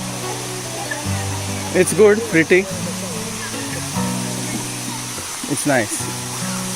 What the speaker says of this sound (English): So finally we have made to the waterfall.